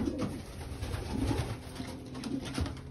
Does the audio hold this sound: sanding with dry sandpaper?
no